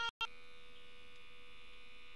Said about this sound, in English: you can hear the motor is rotating